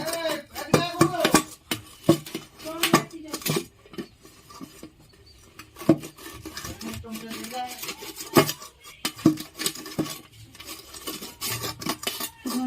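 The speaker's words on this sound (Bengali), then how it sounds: "এবারে ধনা পাতাটি আমি ভালো করে কেটে নেব" A knife chops fresh coriander leaves on a board for a coriander pickle, with a string of crisp, uneven taps and clicks close by, some quicker bursts and brief pauses between them.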